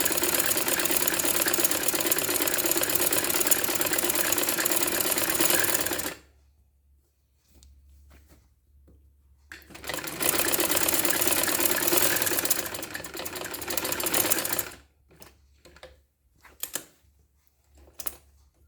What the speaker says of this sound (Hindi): ये पूरी हमें सिलाई करनी है।